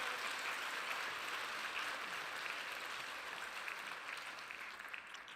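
A conference audience applauds in a steady, even wash of many hands clapping, moderately distant and continuous, gradually easing slightly toward the end.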